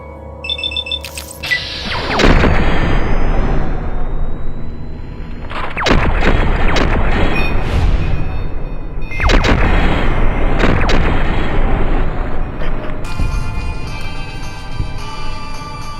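A laser weapon firing in the video game Fallout: New Vegas, with three loud, sharp blasts that each ring out into long decaying tails, close and prominent over a steady game background.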